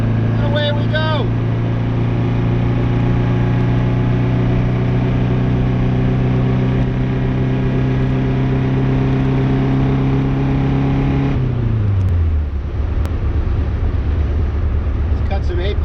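A 1974 Saab Sonett drones steadily at a constant engine note for a long stretch, then the pitch drops and changes as it shifts from coasting into acceleration, loud and close from inside the car.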